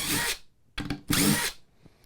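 A cordless drill with a DeWalt drywall screw setter bit backs a screw out, giving three short motor whirs separated by brief gaps, close and fairly loud with nothing else heard.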